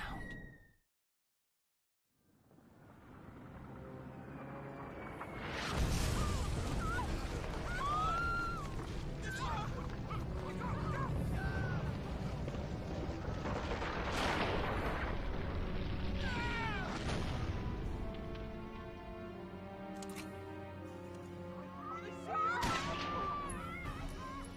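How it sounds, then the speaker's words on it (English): Explosions and gunfire in the WWII-style strategy game Valkyria Chronicles, with heavy booming bursts around the middle and near the end over a steady din of battle noise and music, with scattered tonal effects throughout. "What was that? An explosion. Clearly. That sound."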